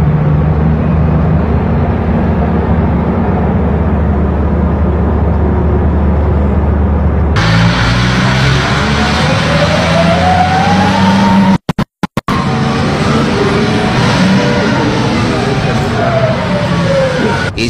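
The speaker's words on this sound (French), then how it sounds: "Comme vous le voyez, de gros engins vrombissent." Heavy machinery at an open-pit gold mine in Burkina Faso roars on steadily in a loud, continuous drone, with a sharp cut partway through and a brief dropout before the rumble resumes.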